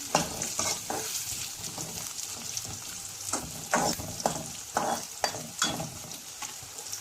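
Onions and green chillies frying with tomatoes and curry leaves in a pan, a steady sizzle broken by several sharp scraping stirs, close and fairly loud with no talk.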